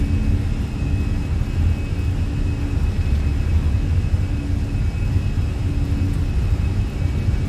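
Airliner engines roar at takeoff power in Microsoft Flight Simulator on the runway at Dublin, a steady loud rumble with a faint whine, continuous and unbroken, with no talking.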